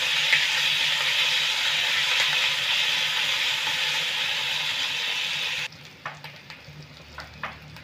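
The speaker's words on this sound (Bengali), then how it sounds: "এখানে আমি একটু রসুন দিলাম, রসুন আর আদা দুটোকে আমি একটু নেড়ে নেব।" Garlic and ginger sizzle steadily in a pan over low gas, a continuous frying hiss that cuts off near the end, leaving a few light clinks and scrapes of stirring.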